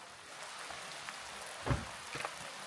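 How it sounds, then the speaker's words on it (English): Rain falls at a campsite during a rainy weekend of Jeep camping, a soft steady patter on surfaces with a few louder drops, fairly faint and with no one speaking. "Wow, it is not just drizzling. No, it is raining."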